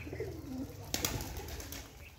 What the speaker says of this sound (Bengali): আমাদের বাড়ির কবুতর দেখাচ্ছি আপনাদের